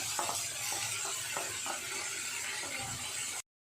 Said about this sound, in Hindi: थोड़ा फ्राई कर लेंगे